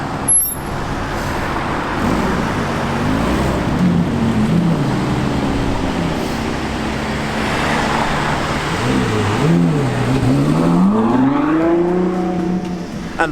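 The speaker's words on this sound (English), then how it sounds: "And that was the all-new Ferrari 812 GTS, so basically the 812 Superfast, but without the roof." Ferrari 812 GTS, the open-roof V12 version of the 812 Superfast, driving past with a steady loud engine drone and rising and falling tonal sweeps, growing louder toward the end, with no talk.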